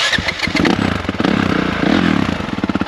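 A motorcycle engine runs close by with a steady, rough, pulsing idle that rises and falls slightly, warming up before being put in gear, with no talk over it.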